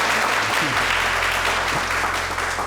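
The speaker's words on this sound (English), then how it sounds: "another round of applause for putting together such another lovely event" An event audience claps steadily in a continuous burst of applause, close and loud throughout, with a low hum underneath.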